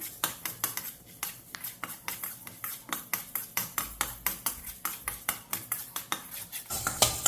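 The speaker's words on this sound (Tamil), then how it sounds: "ஆறு டேபிள் ஸ்பூன் தனியாக சேர்த்திக்கலாம்" Coriander seeds roasting in a little oil are stirred in a pan, giving a steady run of sharp scraping and clinking strokes about three per second, close and moderately loud, with no talk.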